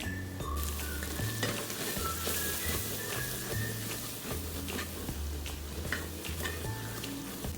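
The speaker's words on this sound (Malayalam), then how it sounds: "ഇട്ട് കൊടുത്ത പൊടിയെല്ലാം ഒന്ന് മൂത്ത് വന്നിട്ടുണ്ട്" Coriander powder and garam masala roasting in a pan for a white chickpea curry, giving a steady close sizzle and frying crackle throughout, with occasional scrapes and stirring clatter and no speech.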